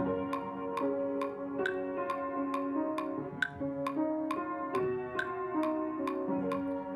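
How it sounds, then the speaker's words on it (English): Piano notes play over a steady metronome, whose crisp ticks fall at an even pace, about two per second, throughout. "I want to turn on my metronome right here, and then I'm going to play this piano part"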